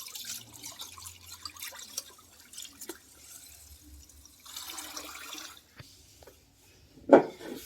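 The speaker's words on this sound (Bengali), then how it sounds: "আমি এবার এটাকে জল দিয়ে 1 ঘন্টা রেখে দেবো ভিজিয়ে" Water being poured over washed rice set to soak makes trickling and splashing that rise and fall, with a louder splash near the end, fairly close and without any voices.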